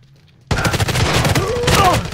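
Rapid bursts of automatic gunfire from a weapon in the video game Arena Breakout: Infinite, loud and dense, starting abruptly after a short silence and continuing in quick repeated shots to the end.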